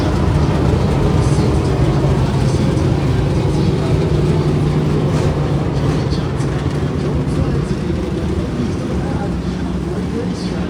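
Race cars roar through a heat race at Belle-Clair Speedway in Belleville, Illinois, a dense, steady engine drone from the track that holds loud throughout, with a commentator talking over it.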